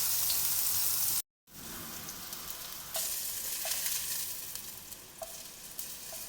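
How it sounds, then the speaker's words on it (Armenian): Salted eggplant pieces frying in a pan for a thick stew give a steady, close sizzle that cuts out for a moment, then resumes with small pops and crackles. "Սմբուկը նույնպես երկու կողմից, երեք կողմից, քանի կողմ ունի, սիրուն տապակում ենք։"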